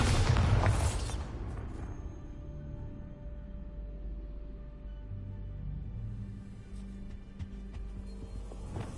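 A loud, deep blast of the Bombarda explosion spell in Hogwarts Legacy opens the clip, then decays into a low rumbling tail and scattered debris-like clatter.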